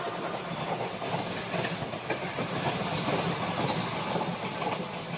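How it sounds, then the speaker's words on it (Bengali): A passenger train running on rails just after leaving Dhanbad, heard from inside as a steady rumble with rhythmic clatter and hiss, moderately loud and continuous. "ট্রেন ধানবাদ ছেড়েছে এই খানিক্ষণ হলো"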